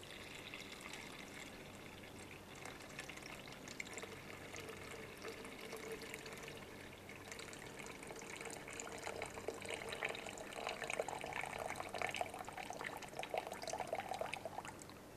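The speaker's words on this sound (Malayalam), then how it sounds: "ദാ ടീച്ചർ അത് ഇതിനകത്തോട്ട് ഒഴിക്കാൻ പോവുകയാണ്." Water pours from a bottle into a measuring jar in a classroom demonstration, a continuous splashing trickle that grows slightly fuller toward the end, heard close and without talking.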